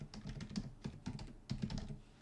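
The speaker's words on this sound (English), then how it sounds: "I'll just type that into the address bar" A website name tapped out on a computer keyboard into a browser address bar, quick close key clicks in three short bursts, quiet and with no voices.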